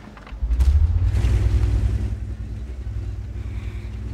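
The AMX 13 105 tank's autoloader gun fires in a video game tank battle with a single deep boom, then a long low rumbling decay.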